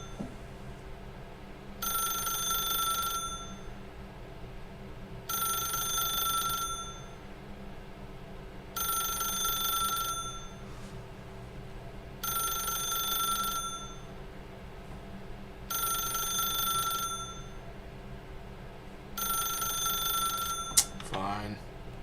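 A telephone rings in the video game The Stanley Parable, with six evenly spaced bursts of bright electronic trilling separated by pauses, sounding over a steady low background hum.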